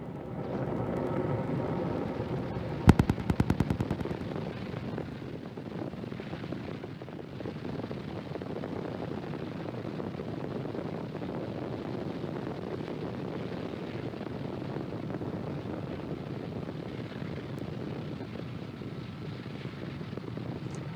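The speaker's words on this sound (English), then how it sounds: "Falcon 9 has successfully lifted off" Distant, steady rumbling roar of a SpaceX Falcon 9 rocket climbing after liftoff, a broad low-pitched drone with wind buffeting on the microphone and a brief crackling burst near the start.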